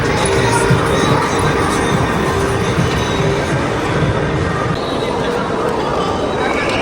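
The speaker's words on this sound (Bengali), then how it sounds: "এখানে বাচ্চাদের জন্য রেলের সুযোগ সুবিধা আছে, একদম রেল স্টেশনের মতন একটা ফিল।" A children's ride train rolls through a large indoor shopping mall in Qatar, a steady rumbling clatter under a loud, echoing crowd, with a person talking over it.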